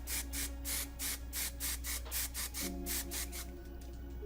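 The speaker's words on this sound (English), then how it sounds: "I'm gonna use a wide tooth comb with my Headstrong hairspray" Hairspray sprayed in repeated short bursts while a wide-tooth comb lifts the hair, a rhythmic hissing pattern of about a dozen pulses, close and fairly steady, with no talking.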